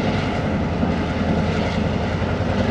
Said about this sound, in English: That's a new looking train. I've never seen HLCX engines before.